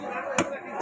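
Fish head chopped into two pieces at a market stall, a single sharp cleaver thwack, near and distinct, set against background chatter and a continuous bustling murmur.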